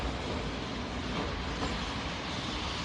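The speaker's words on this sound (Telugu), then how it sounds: "ట్రైన్ ఇప్పుడు 3వ ప్లాట్ఫామ్ కి వచ్చింది" A train arrives at a station platform in a video game, a broad steady rumbling roar of rolling wagons that stays even and fairly loud for a few seconds.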